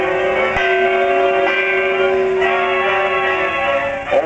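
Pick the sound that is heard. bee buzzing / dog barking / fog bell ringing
fog bell ringing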